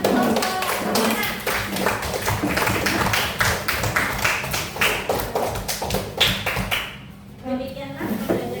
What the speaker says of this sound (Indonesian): Kita berikan tepuk tangan buat kelompok penanam